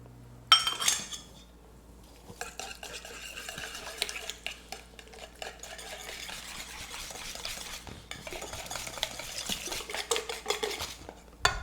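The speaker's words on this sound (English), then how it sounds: "This is supposed to be whisked." A spoon whisks egg in a bowl, clinking steadily and rapidly against the sides for several seconds, close and fairly loud, with no talking.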